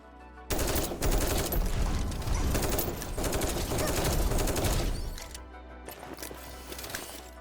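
Rapid rifle gunfire from the video game Girls Frontline 2: Exilium, dense bursts of shots fired nearly nonstop for several seconds, then easing into lighter, sparser fire.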